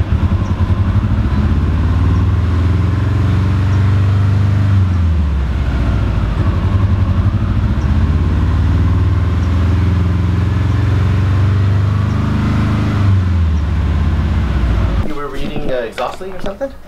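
A fully built Subaru WRX engine running loud and close, with its RPM ramping up and down in slow swells before the sound cuts off abruptly near the end.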